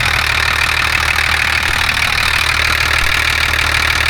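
A 1985 Ford Hino diesel engine with a worn injection pump idling, a loud, close, steady rumbling drone that holds even throughout with no talking.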